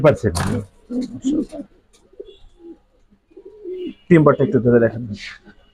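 Pigeons coo at a large farm keeping many breeds, including Giribaz, high flyers and foreign racers, with close, loud, throaty calls in bursts at the start and near the end, mixed with people talking.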